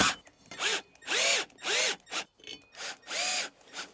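A power drill whirs in a series of short, loud bursts, spinning up and down about six times in quick succession, close by, drilling a 25mm hole in the bottom of a charger.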